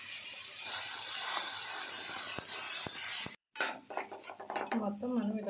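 Rice and a chicken fry mixture for chicken biryani sizzle in a pot with a steady bright hiss and a few metal utensil clinks, then after a short break quieter stirring and scraping continue with a voice speaking over them.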